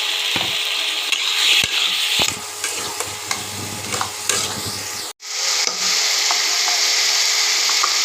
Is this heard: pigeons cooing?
no